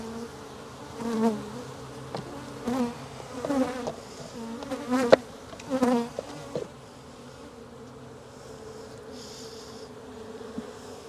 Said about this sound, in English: look at all these bees? Hear them roaring?